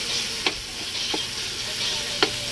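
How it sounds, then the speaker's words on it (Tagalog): Tomatoes and onions frying together in a pan before eggs go in, a dense steady sizzle close by, with three brief scraping strokes from stirring, no talking. "niluluto ko na po yung kamatis and then yung sibuyas guys"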